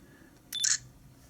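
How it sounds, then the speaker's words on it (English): A Nikon Coolpix S9900 compact camera fires one short electronic shutter sound, a brief bright double click in a quiet room. "that's the shutter noise"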